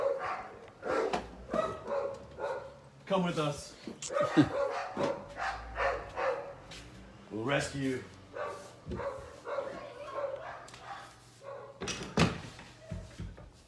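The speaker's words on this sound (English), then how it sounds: "The dogs are so loud." Several dogs bark repeatedly in loud bursts close by, their barking mixed with and breaking over a conversation between people speaking.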